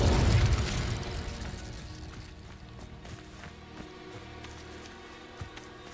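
Fire spell blast in the video game Hogwarts Legacy: a loud booming burst at the start that rolls off into a fading rumble, followed by scattered small clicks and pops.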